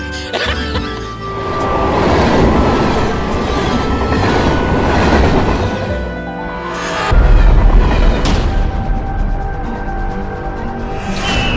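A train locomotive rolls along rails close by, a loud continuous rumble with rhythmic clickety-clack from the wheels and a brief squeal of wheels midway, with no voices.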